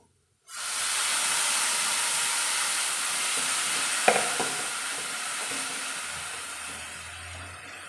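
Ground roasted coconut masala paste added to frying onions and coconut pieces for a beetroot curry, setting off a sudden loud, steady hiss and sizzle that continues close up with one brief clink partway through.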